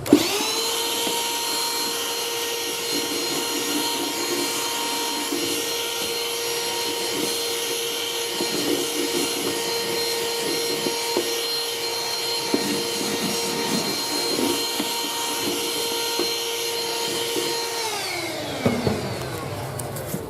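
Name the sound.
vacuuming dust off subfloor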